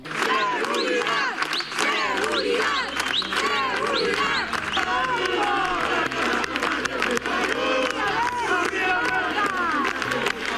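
A neighborhood crowd at a public-safety protest chants in unison with rhythmic, repeated shouted phrases and scattered claps, loud and close, running continuously for about ten seconds.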